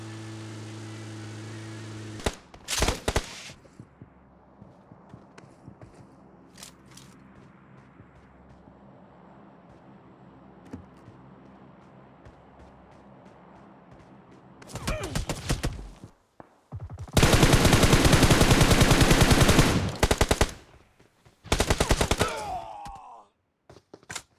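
Gunfire in the PUBG mobile game on a Samsung Galaxy S23 Ultra: a few sharp isolated shots early on, a quiet stretch of faint game ambience, then loud sustained bursts of rapid fire near the end.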